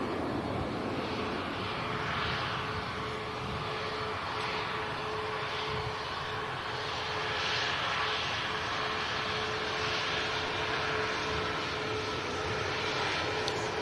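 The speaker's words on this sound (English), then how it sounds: "Up next to go, Gulf Air Dreamliner for Bahrain." A Gulf Air Boeing 787 Dreamliner jet bound for Bahrain departs Manchester Airport, making a steady, loud broadband engine roar that holds for the whole stretch with no voices.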